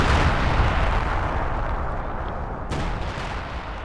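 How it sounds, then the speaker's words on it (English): An artillery strike on infantry in the video game Company of Heroes 2, a loud rumbling barrage with a sharp blast near the end. "And I called artillery down somewhere. Oh, I called it right here on all this infantry."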